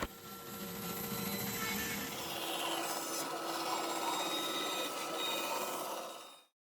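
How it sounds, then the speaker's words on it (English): A bandsaw rips through a heavy walnut and black resin slab with a continuous rasping whine, holding steady for several seconds before cutting off abruptly near the end. "We're going to cut it on the bandsaw, rough out the shape."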